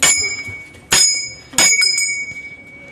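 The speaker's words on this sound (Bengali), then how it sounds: "এই ঘন্টাটা বাজানো যাবে, তখন বাজানোর চেষ্টা করছিলাম।" A temple bell is rung three times in quick succession, each bright metallic strike ringing close and loud, then decaying with a lingering tone.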